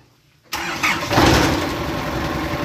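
A car engine cranks and catches after an alternator replacement, then settles into a steady close idle, with the start loud and abrupt after near silence.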